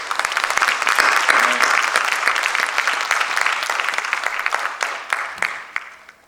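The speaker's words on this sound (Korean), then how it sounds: "오늘 이 시간에는 우리 2분 일어섰을 때 우리 힘내시라고 박수 한번 보내드리겠습니다." A congregation at a New Year fasting prayer service claps in a sustained burst of applause, strongest early and gradually thinning out toward the end, with a brief voice heard partway through.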